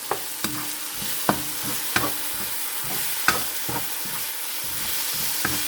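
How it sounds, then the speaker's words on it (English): Green peas and sweet red peppers sauté in a pan for fried rice, a soft, steady sizzle broken by regular sharp clicks and scrapes of a utensil stirring, with no voices. "So saute this maybe for 1 minute."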